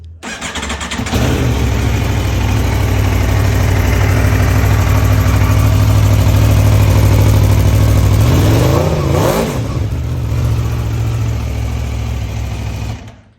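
Aprilia Tuono V4 1100 Factory, a 2024 white limited-edition V4 motorcycle, starts up and settles into a loud, steady idle close by, with a brief throttle blip near the end before it shuts off.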